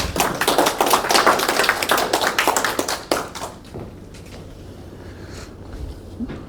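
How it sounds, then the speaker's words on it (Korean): An audience at an ESG lecture session in Tongyeong claps to welcome a guest speaker. The applause is a burst of close, sharp claps lasting about three seconds, then it quickly fades to scattered taps and room quiet. "박수 부탁드립니다."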